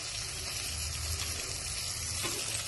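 Tomato pieces hitting a hot pan for a tomato curry, giving a steady, close sizzling hiss with no voices.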